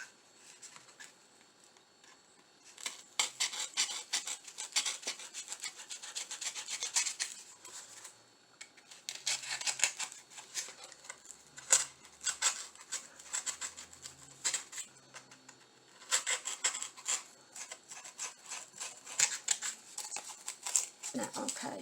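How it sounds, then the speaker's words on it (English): Scissors cut through a Dollar Tree craft piece for an Easter decoration, giving a steady run of close, soft snipping and rubbing rasps that keeps going for about twenty seconds with brief pauses, and no talking. "I'll finish cutting this out."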